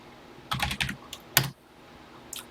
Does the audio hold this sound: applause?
no